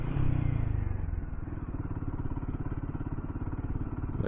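Royal Enfield Himalayan 450 motorcycle riding along a road with a dry, unlubricated chain, a close steady engine thrum with rapid rhythmic pulsing and a faint clattering edge, loud and without talk.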